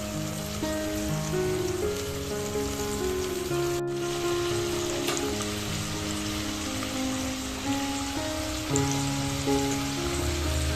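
Fish curry gravy at a boil in a pan, a soft continuous bubbling patter like rain on a surface, with one sharp click partway through, under steady background music.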